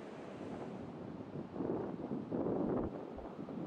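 Surf washing onto Praia da Barra beach, with waves overtopping the sand and sandbag defences, heard as a steady broadband roar that swells around the middle of the clip and is buffeted by wind noise, with no voices.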